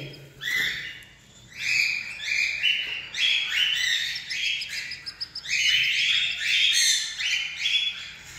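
Many small birds in a backyard colony chirp and twitter together in dense, overlapping bursts of high tweets, close and loud, with brief squawky calls and no talking.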